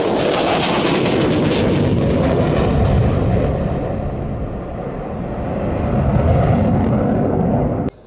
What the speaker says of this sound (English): The fantastic Blackjack Typhoon display.